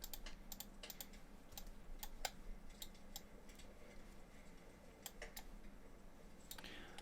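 Computer mouse clicks and keyboard taps during Unreal Engine 4.27 landscape editing, sharp, quiet, irregular ticks scattered over a low steady room hum, close by and with no talking.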